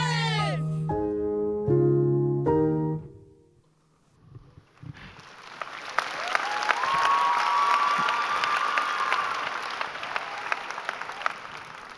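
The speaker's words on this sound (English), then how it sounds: "Let's give another round of applause for the MHS softball team" A school assembly audience at Milton Hershey School breaks into loud, sustained applause and cheering after a short burst of music, the clapping swelling and persisting with scattered shouts.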